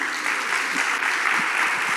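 Loud, close congregation applause fills a church service, a dense continuous wash of clapping throughout the short span with faint voices underneath.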